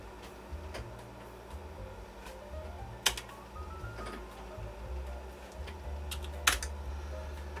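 A floppy disk drive writes an MS-DOS boot diskette on an old 386 portable computer, with a faint mechanical whir, low stepping buzzes and a couple of sharp clicks, quiet and close.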